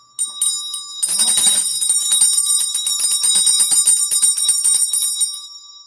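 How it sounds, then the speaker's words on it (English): A bright metal bell rung repeatedly, starting with a few isolated dings, then a rapid sustained ringing with quick, even strikes that fade out, loud and close with nothing else heard. "ding the bell"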